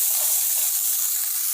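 Chopped medium-sized onions with curry leaves sauté in hot oil in a pan, giving a steady, close, even hiss and sizzle with no voices.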